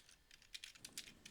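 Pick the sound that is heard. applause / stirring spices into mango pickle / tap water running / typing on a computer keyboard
typing on a computer keyboard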